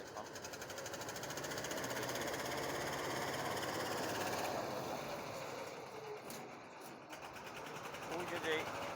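A trawler boat engine chugging as the boat pulls in to dock at a riverside landing near Mirzaganj, a steady rapid rhythmic thrum at moderate distance that fades slightly near the end, with a voice talking over it.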